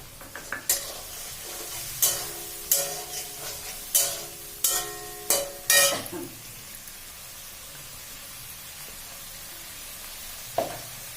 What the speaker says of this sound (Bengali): এর ভিতরে আমি দুধ দিয়ে দিচ্ছি